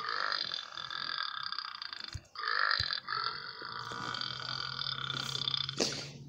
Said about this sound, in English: Dang, he burped.